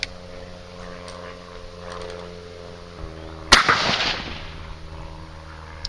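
A single loud .243 rifle shot firing a 90-grain Sierra Gamechanger bullet at a 100-yard range, a sharp crack with a short rumbling tail after a few seconds of quiet outdoor hum.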